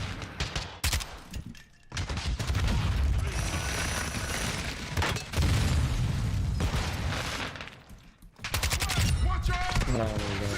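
Dense, rapid gunfire from Call of Duty gameplay rattles in sustained bursts with brief gaps between volleys, loud and close, with mechanical clicks and a voice talking over parts of it.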